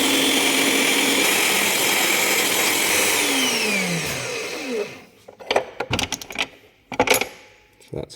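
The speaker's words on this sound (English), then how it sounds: "Now I'm going to drill this." A power drill bores a hole for a guard during metal fit-up. A loud, steady whine runs for several seconds and then winds down. Clinks and rattles of metal parts and tools follow at close range.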